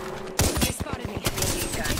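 Video game gunfire rings out in a rapid string of sharp, loud shots during an intense firefight, close and punchy, with a voice heard briefly alongside.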